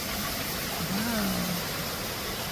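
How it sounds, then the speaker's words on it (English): Strong wind and rain in a Houston storm roar as a dense, steady wash of noise close to the listener, with a brief voice-like tone rising through the middle. "the wind, I heard it really going up against the house real bad"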